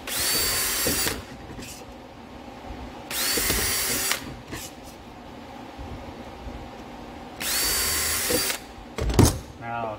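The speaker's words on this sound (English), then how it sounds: "I'm going to pre-drill these." Three bursts of a power drill whining at high speed while pre-drilling holes, each lasting about a second, with quieter handling noise and a clunk between them.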